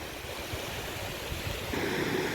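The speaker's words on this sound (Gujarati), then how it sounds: "ઝરણા વહી રહ્યા છે" Water streams pour over the stone masonry spillway of Vijay Sagar Dam near Mandvi, Kutch, making a steady, broad rushing roar that swells slightly louder toward the end, with no voices.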